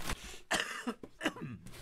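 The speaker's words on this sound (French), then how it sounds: "Je vous prie de m'excuser, parce que je tousse encore" A person coughs several times in quick succession, close and fairly quiet, a little throat-clearing mixed in, with no speech.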